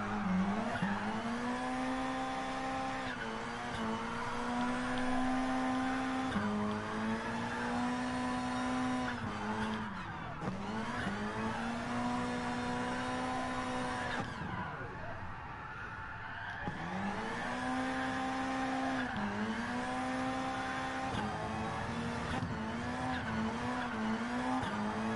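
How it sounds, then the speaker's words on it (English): Car drifting in the racing game Gran Turismo Sport, with a steady engine drone rising and dipping through repeated revs and shifts, tire squeal blending in over about 25 seconds of continuous, loud driving. "when you can drive like this and drift at the same time"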